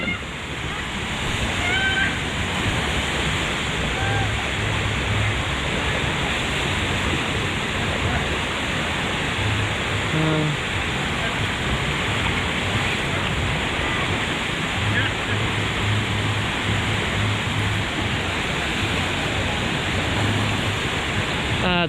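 Water rushes loudly and steadily down the Runoff Rapids water slides at Blizzard Beach in Lake Buena Vista, Florida, as a continuous broadband roar with no letup.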